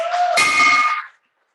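A hand bell is struck at a Rotary Club of Oakland meeting, giving one bright, loud clang that rings on briefly and dies away to silence, with no talking over it.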